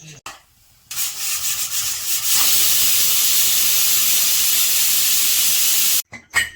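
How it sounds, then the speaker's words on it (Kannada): A pressure cooker releases steam while sambar made with greens, coconut and brinjal cooks, giving a loud, steady hiss that runs for about four seconds and then cuts off sharply, after softer rubbing noises. "ಈಗ ಇಷ್ಟು ವಿಷಲ್ ಕೂಗಿಸ್ತೀನಿ"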